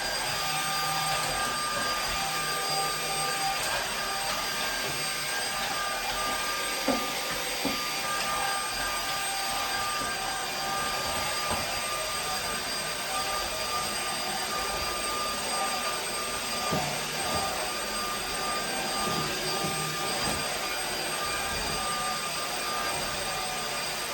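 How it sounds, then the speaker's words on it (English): A YOKEKON cordless stick vacuum cleaner runs with a steady, loud, whooshing whine, holding continuous for the whole stretch with small bumps as it moves along edges. "I can see where I'm vacuuming as well."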